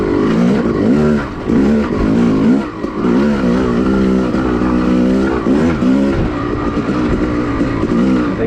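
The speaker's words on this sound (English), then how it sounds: "The bike runs even stronger as it cools down a little bit." An off-road motorcycle engine runs loud and close on an OHV trail, revving up and down in repeated surges with rising and falling pitch over eight seconds, no voices present.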